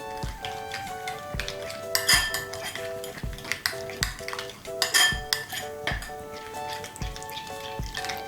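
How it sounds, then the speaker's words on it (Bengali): Spices being stirred into yogurt with a spoon in a bowl, with a steady rhythm of bright clinks and ringing taps of metal against the dish, close and clear. "সমস্ত মশলাগুলোকে টক দইয়ের সঙ্গে ভালো করে মিশিয়ে নেব"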